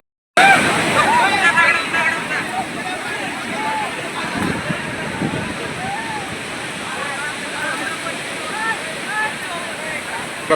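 Steady, dense rush of Rameshwar waterfall in Jamkhed, India, roars throughout, with a faint murmur of voices mixed into the constant noise.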